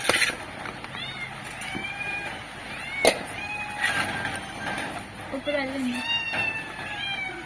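A cat meows several times, rising and falling cries close by, mixed in with a person talking throughout.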